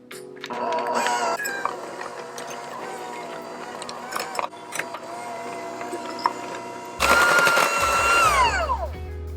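An electric mixer creams banana bread ingredients with a steady whirring hum, then shifts to a louder, higher-pitched whine near the end as the speed changes.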